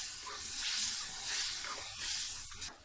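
Meat frying with yogurt in a pot during bhunai for yakhni pulao: a steady, bright sizzle and hiss throughout, swelling and easing in waves, with small pops and no voices.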